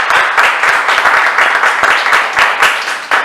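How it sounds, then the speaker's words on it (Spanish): A church congregation applauds, dense steady clapping from many hands filling the room for a few seconds without talk. "Dale un aplauso al Señor."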